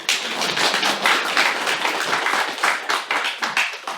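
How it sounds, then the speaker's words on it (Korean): A church congregation applauds its choir after a service song, a dense crowd clapping that stays steady and fairly loud across the whole span with no talk over it. "우리 성가대 박수 한번 하죠"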